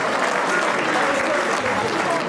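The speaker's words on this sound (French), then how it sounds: "Il est là, applaudissez pour lui, s'il vous plaît." An audience in a hall claps steadily at a 50th birthday celebration in Viry-Châtillon. The dense, close applause fills the whole stretch, and some voices mix in underneath.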